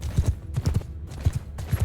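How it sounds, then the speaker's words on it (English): Horses gallop in the video game Bannerlord as horse archers give chase, with clustered hoofbeats thudding in quick, regular pairs, close and moderately loud with no talk. "I see horse archers pursuing"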